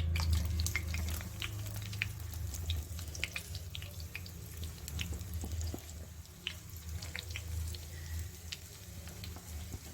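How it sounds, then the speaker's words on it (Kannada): Potato pieces for a snack fry in hot oil, giving a constant soft crackling sizzle with scattered pops at moderate distance and no talking. "ಇದನ್ನು ಅದೇ ರೀತಿ ಫ್ರೈ ಮಾಡಿ ತಗೊಳ್ಳೋಣ"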